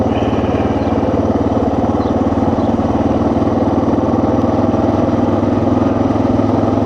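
A Suzuki DR 650 motorcycle, a 2024 model, runs steadily in third gear on a ride, its engine giving a loud, continuous mid-range drone with a constant throbbing pulse all the way through.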